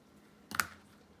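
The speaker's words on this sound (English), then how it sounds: "I'm going to use the machine to cut that off" A sewing machine's built-in thread cutter snips the thread after backstitching on a medical mask, giving a quick pair of sharp mechanical clicks alone over faint room hiss.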